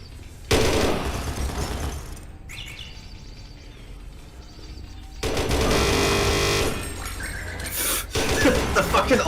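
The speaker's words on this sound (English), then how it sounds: "Let me start using the machine gun." A machine gun in the video game Doom 3 fires in long, loud, sustained bursts, with a brief pause and clanking mechanical sounds between the two main volleys.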